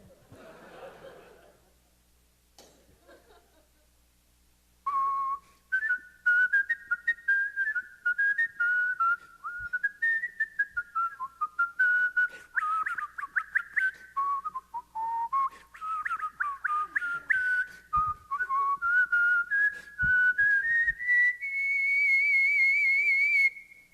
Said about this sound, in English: we'd like to now have a whistle along on Yankee Doodle Dandy